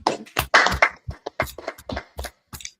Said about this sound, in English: That's the clap.